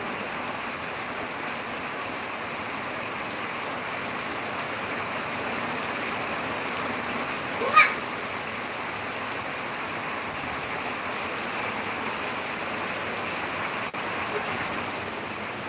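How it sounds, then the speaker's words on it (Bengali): Heavy rain pours down in a steady, dense hiss that never lets up, with one brief sharp tap partway through. "কত বৃষ্টি হচ্ছে দেখো"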